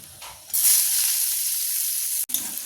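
Chopped onion dropped into hot oil with cardamom, cloves and cinnamon, a sudden loud hissing sizzle that holds steady for about two seconds, then cuts off.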